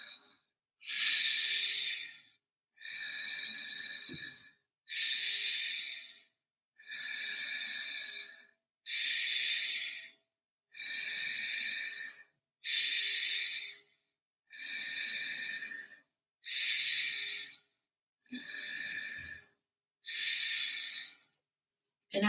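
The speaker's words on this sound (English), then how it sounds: "practice that breath with me" Exaggerated breaths drawn through a constricted throat during a yoga breathing exercise: a long series of raspy, hissing inhales and exhales at an even pace, each separated by a brief silence, close and clear.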